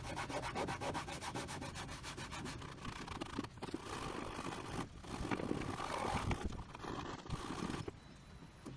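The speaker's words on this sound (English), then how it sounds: "What I'm going to do is finish sanding it down" Sandpaper rubs over a repaired piece of broken plastic in quick repeated back-and-forth strokes, close and fairly quiet, with brief pauses between runs.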